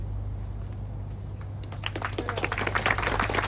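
An audience at a Veterans Day beacon-lighting ceremony breaks into applause for the town mayor, the clapping building from faint to moderate over a steady low hum.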